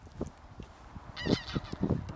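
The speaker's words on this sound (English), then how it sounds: "So I'm going to go and disrupt the geese over here, actually." Geese at their roost give several loud, nasal honks in quick succession, close by, after a few softer calls.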